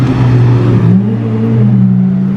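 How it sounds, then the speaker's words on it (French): A Nissan GT-R drives past on a Monaco street, a loud close engine drone with a low steady hum and a shifting pitch that dips as it goes by, with no voices. "Et je crois que la GTR là elle fait un bruit de fou"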